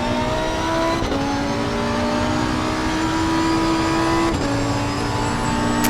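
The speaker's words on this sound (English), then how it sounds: "Listen to that engine." A Porsche race car engine in the video game Assetto Corsa Competizione roars at high revs, its pitch climbing through gears with two sharp shifts, loud and continuous with no voices.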